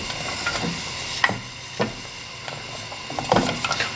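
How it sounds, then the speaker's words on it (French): Chocolate melting in a pan for a chocolate mousse, stirred with a spoon in scraping strokes over a soft background hiss, with several distinct scrapes and taps against the pan. "On commence à touiller."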